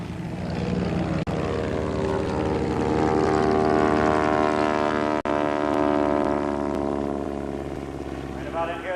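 Propeller airplanes flying aerobatics at the Oshkosh homebuilt airshow: a loud, sustained engine and propeller drone with steady harmonic tones holds near throughout, rising and falling slightly in pitch, with two brief dropouts.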